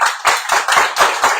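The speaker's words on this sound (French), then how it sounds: "vous devriez applaudir le bistrot" An audience applauds on a French radio show recorded in a bistro, with quick, dense rounds of clapping that come in several short bursts.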